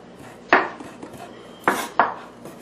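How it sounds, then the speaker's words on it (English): Onion and mushroom scraped off a wooden cutting board for a Chinese hamburger: three sharp scraping strokes, one early and two close together near the end, each with a bright rasping edge over quiet room tone. "Let's pick all this off the cutting board here"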